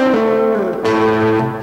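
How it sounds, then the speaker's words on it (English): Loud, sustained overdriven electric guitar notes ring out with a gritty, buzzing tone, the pitch shifting as new notes are struck. "People like that distortion."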